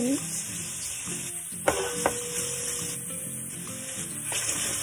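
Pork browning in a pan for pinakbet gives off a loud, steady sizzle close by, with occasional scrapes and taps as the meat is stirred.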